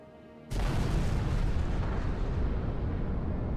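A nuke detonates in a modded Halo 3 Forge game: an abrupt, massive blast that bursts in and holds as a loud, sustained roaring rumble with no voices.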